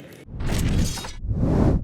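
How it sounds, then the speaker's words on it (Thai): Ice falls and shatters onto the canvas of a Muay Thai boxing ring during a live fight event. Two loud, noisy crashing bursts spread across a wide band of sound. "มีน้ำแข็งนี่ร่วงลงมา กลางเวทีนิดนึง"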